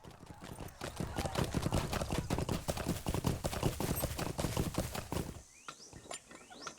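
Rapid, continuous clip-clop of horse hooves trotting close by in the video game Lord of the Rings Online for about five seconds, then slowing to a few scattered steps.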